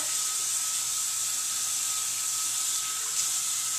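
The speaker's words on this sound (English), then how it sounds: "All you do is turn on warm water." Warm water runs from a tap in a steady, hissing stream, close and fairly loud, holding constant for several seconds with no talking.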